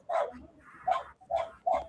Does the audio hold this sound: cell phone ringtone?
no